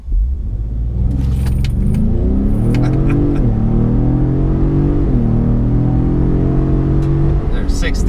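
A Ford Raptor truck accelerates hard on a flat straightaway during a performance test, its engine note climbing through gear changes with a loud, close rumble inside the cab.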